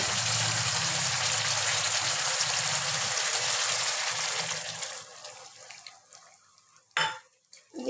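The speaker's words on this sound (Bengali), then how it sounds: "ছোট্ট বাটি দিয়ে 1 বাটি জল অ্যাড করবো।" A small bowl of water poured into a simmering potato and pointed gourd curry made with yogurt, a steady splashing pour lasting about five seconds before it stops, followed by a brief utensil clatter.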